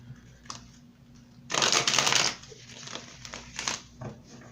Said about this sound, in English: I'm going to shuffle these cards this way.